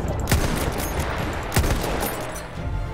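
Battlefield 1 online match gunfire, with two sharp heavy shots about a second apart over a dense, continuous din of distant battle, loud and close.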